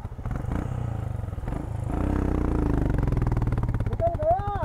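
Motorcycle stuck in deep sand on a Spiti Valley trail is pushed free, its engine revving and labouring under scraping and clatter, then pulling away with a rising note.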